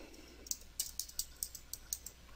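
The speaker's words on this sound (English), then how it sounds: "You can type in your own information." Typing on a computer keyboard, a quick run of about nine light, crisp key clicks in an uneven rhythm, close and quiet with nothing else heard.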